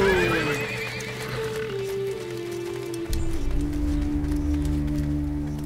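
A horse pulling a chariot comes to a stop, its loud whinny rising at the start over continuous clip-clop of hooves on hard ground that shifts to a heavier, nearer rumble after the halt, with no talking.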